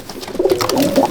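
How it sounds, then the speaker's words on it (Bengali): A female Chotial Madrasi pigeon coos in a loft, giving a close, moderately loud run of soft, warbling coos with no talk over it. "এটা একটা মাদি পায়রা"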